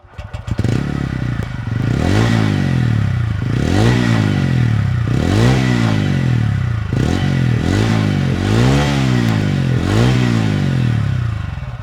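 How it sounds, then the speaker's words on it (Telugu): A 2025 TVS Ronin motorcycle revs its exhaust, loud and close, with a steady idle broken by about six sharp throttle blips that rise and fall in a regular rhythm, plus some light mechanical clatter. "ఇప్పుడు దీని ఎగ్జాస్ట్ నోట్ ఎలా ఉందో మీకు చూపిస్తాను"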